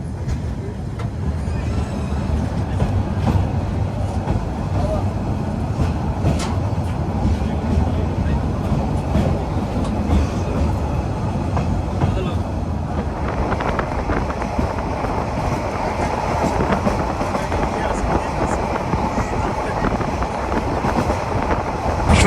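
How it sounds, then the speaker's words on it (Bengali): The Probal Express pulls out of Ramu railway station in Cox's Bazar, heard from inside the carriage as a continuous loud rumble and rattle of the wheels that builds steadily, with faint voices now and then. "এখন ডিপার্চার নিচ্ছি কক্সবাজারের রামু রেলওয়ে স্টেশন থেকে"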